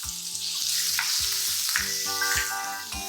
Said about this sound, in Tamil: கொஞ்சம் பெருசாக நறுக்கி வதக்கிட்டு நல்லா வதக்கிக்கலாங்க